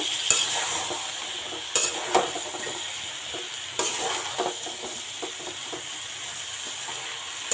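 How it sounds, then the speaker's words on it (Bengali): Sponge gourd sautéing in spice masala for a rui fish curry, a steady close sizzle with scraping stir strokes recurring every second or two and no voices. "আমি ওখানে দিয়ে দেবো দুন্দুল, এই যেটা। আর এটা আমি ভালো করে 5 মিনিটের মতো কষিয়ে নেব।"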